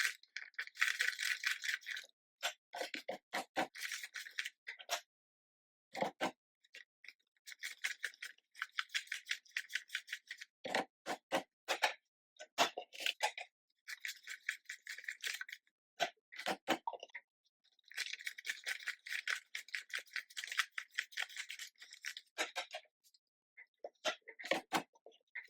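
Paper cash banknotes being counted by hand for envelope budgeting, with bursts of rapid crisp flicking and riffling, close and clear, broken by short silent pauses between stacks.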